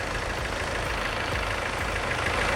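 An All New Kia Carnival idles after starting during an automatic transmission oil change, a dense, continuous engine drone with a steady low rumble and no breaks.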